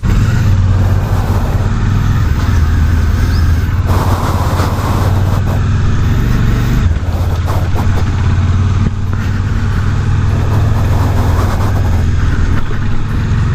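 A motorcycle ride captured by a GoPro Hero 7 on an Axor helmet gives a constant loud engine drone mixed with wind rush. Speed shifts slightly throughout, with no voices.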